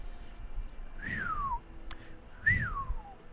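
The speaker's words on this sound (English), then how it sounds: "my whistling sucks" A person whistles two separate notes, each sliding downward in pitch, with a short pause between them. The whistling is clear and fairly close against a quiet background.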